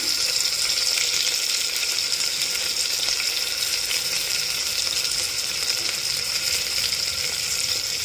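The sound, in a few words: cumin seeds sizzling in hot oil in a pressure cooker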